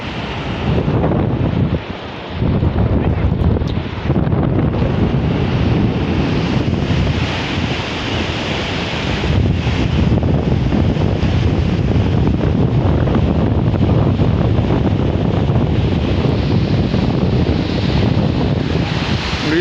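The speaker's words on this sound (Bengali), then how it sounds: "তাও আবার একেবারে সাগর পাড়ের বাতাস" Strong wind on a sea shore buffets the microphone in a constant roar, with surf rumbling underneath, loud and unbroken apart from a short lull early on.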